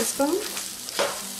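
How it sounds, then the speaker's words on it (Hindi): Spices for a Maharashtrian eggplant masala, including coriander and cumin powder, black masala, red chili and garam masala, stirred in a hot pan, with a soft scraping stir and a faint sizzle under brief speech. "अच्छे तरह से मिक्स कर लेंगे।"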